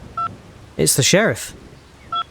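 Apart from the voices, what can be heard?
phone ringing in a video game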